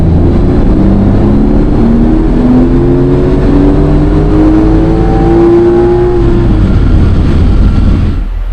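A new Porsche 911 Turbo S revs hard on a dyno run. The loud engine note climbs steadily in pitch for about six seconds, then holds before cutting off sharply near the end.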